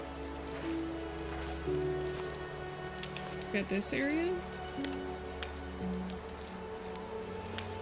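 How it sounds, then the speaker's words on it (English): Steady rain pattering in a walking-sim video game, a soft continuous hiss under someone talking and some brief chirping game tones. "God, I love rain."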